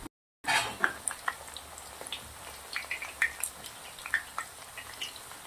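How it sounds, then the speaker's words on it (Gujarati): Thin ratalu (purple yam) wafers fry in hot oil until crisp, producing an irregular crackle of small pops and spits after a brief silent start, fairly close and with no voices. "ક્રિસ્પી થાય ત્યાર સુધી તળવાની છે."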